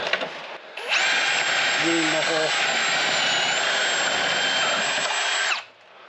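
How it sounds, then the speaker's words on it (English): Power drill whining steadily while a bit is worked back and forth to enlarge a hole in a Toyota RAV4 steel frame during a hitch install, loud and close for about five seconds, with a brief voice underneath. "I'm going to try to jimmy the bit back and forth so that it enlarges the hole."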